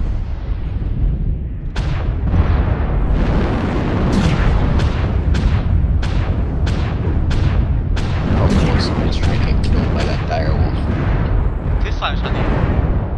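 LRM missiles launch and explode in MechWarrior Online, a fast string of sharp booming bursts over a constant heavy rumble, loud and near, with voices in the background.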